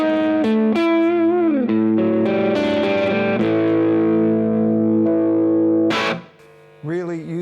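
Electric guitar on a P90 front pickup, cabled straight into a tweed amp with no pedals, plays bent, vibrato-laden lead notes and sustained tones with crunchy drive, ending in a short burst of quieter picking.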